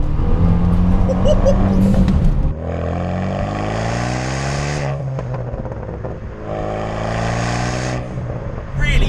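A Renault Megane R26 hot hatch accelerates hard out of a corner in second gear under turbo boost, its engine note loud and rising in pitch through two long pulls, with someone talking over it.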